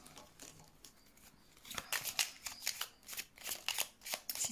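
Tarot cards being shuffled by hand, a run of crisp riffling bursts that come in quick repeated waves after a quiet start.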